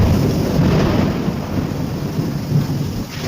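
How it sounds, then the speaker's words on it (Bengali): Heavy rain pours in a steady, dense roar throughout an afternoon thunderstorm, with low rumbling thunder swelling beneath it and no voices. "দুপুর থেকে কন্টিনিউয়াসলি বৃষ্টি এবং খুব জোরে জোরে বিদ্যুৎ চমকাচ্ছিল"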